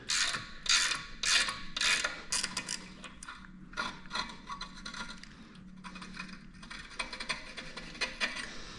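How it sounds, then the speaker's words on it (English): A wrench works loose the brake caliper bolts on a GM 10 bolt front axle, giving rapid ratcheting clicks in bursts with metallic rattles and clanks close by, pausing briefly between runs. "the first thing I'm gonna do is I'm gonna pull this caliper off"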